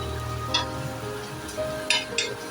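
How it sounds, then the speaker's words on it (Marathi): Appe frying in a pan for an Ashadhi Ekadashi fasting thali: a soft, steady sizzle at close range, broken by a few brief scrapes or clinks as they are turned. "आपल्याला अजून हे थोडे फ्राय करायचे आहेत"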